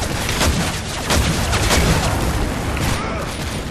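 Gunfire roars in a first-person shooter video game as a dense, unbroken barrage of shots and booming impacts that is loud and close throughout.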